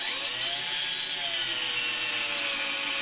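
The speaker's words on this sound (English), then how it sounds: "back the drill out a little bit" A steady whirring hand drill bores into a wooden spinning wheel bobbin on a lathe, grinding continuously, a mechanical hum with a faint rasping edge, close and unbroken throughout.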